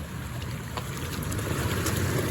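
An off-road vehicle rolls through a creek with a continuous low rumble of engine and churning water, mixed with wind buffeting the microphone, steady and close throughout with no talking.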